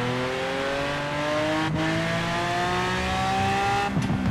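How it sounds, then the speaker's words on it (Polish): Struggling engine of a damaged, wrecked Lamborghini Aventador in Forza Horizon, a steady strained drone with gliding harmonic tones that dip briefly and shift pitch near the end, with tire noise and no talk. "Ten samochód ledwo co już zipie."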